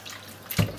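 Tap water pours briefly into a pot of rice for cooking, a short close splash and gush rising to a peak before easing off.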